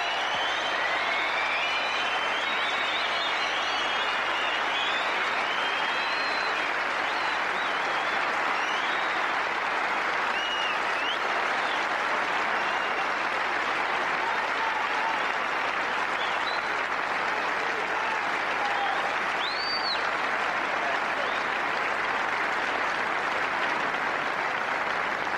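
Sustained audience applause at the 1991 Benson and Hedges Masters snooker final as Mike Hallett comes forward for his runner-up cheque, a long, even roar of many hands clapping that never lets up for nearly half a minute.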